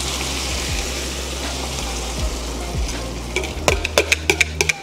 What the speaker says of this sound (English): Now we're gonna go ahead and add in our egg.